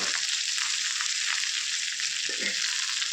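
Okra fries on a tawa over low heat, giving a dense, even sizzle throughout with faint stirring movements and one brief scrape near the end, close and steady.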